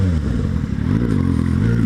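A Kawasaki Z750 motorcycle engine roars up close, a loud, throaty rumble that rises and falls slightly with some mechanical clatter.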